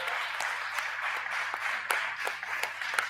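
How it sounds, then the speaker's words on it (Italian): Audience applause at an award ceremony, a fairly faint, steady patter of clapping with a few sharper individual claps standing out, no speech over it. "un applauso ancora"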